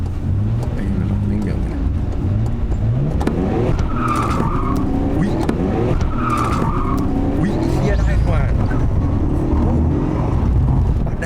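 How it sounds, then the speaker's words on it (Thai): A Nissan Skyline GT-R R34 V-Spec II Nür, all-wheel drive, drifting through a corner with the rear sliding out: loud sustained engine roar with short tire squeals, under excited talk from people inside the car. "นี่มันท้ายปัดอย่างกับรถขับสองเลยเนี่ย"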